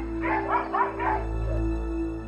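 A short run of yipping dog barks close by as the dogs go after a wild Philippine macaque, four quick bursts followed by a fainter whine, over a steady low hum.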